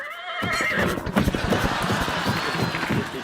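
A horse neighs and whinnies loudly, mixed with clip-clop hoof sounds and lively crowd noise on a comedy stage show.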